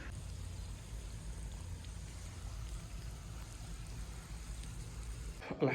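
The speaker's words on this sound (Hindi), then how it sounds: "इस खेत में पानी लगा दिया है" Irrigation water pours steadily into a farm field in a village, a low, continuous gushing rush with a faint background hum, ending in a brief louder rustle.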